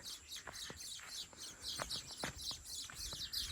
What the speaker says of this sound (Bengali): তবে আমি কিন্তু পাখির কিচিরমিচির শুনতে পাচ্ছি